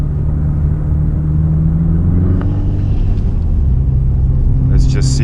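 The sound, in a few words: Subaru Impreza WRX STI driving on ice track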